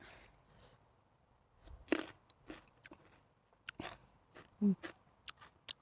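Crisp bites and crunchy chewing of fresh star gooseberries picked in a backyard, close to the mic, coming in irregular bursts separated by quiet pauses.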